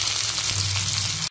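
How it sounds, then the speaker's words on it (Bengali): Tomatoes frying in a pan give a steady, close sizzle with a low bubbling hum, cut briefly by a soft clunk near the end. "টমেটো ভালো করে একটু ভেজে নিয়ে মশলাটা দিয়ে দেবো।"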